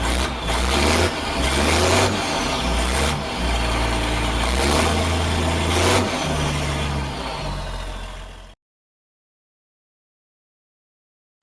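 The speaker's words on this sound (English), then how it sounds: "Tractor." A tractor engine runs loud and close, its low rumble holding steady with a few brief rises in pitch, before the sound cuts off abruptly into silence near the end.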